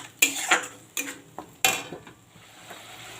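Spice paste of ground yogurt, onion, tomato and chili being stirred and fried in a pan, with several sharp metal spatula scrapes and knocks against the pan at irregular intervals over a low background hiss.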